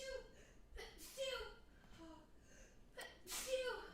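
A person sneezing, a sharp close burst with short gasping and chuckling breaths around it, fairly faint, among voices talking.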